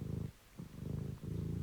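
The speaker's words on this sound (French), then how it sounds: "Nous commençons à nous laisser bercer par les ronronnements." Cat purring close up, a steady low rumbling purr with short pauses between breaths, alone and soft.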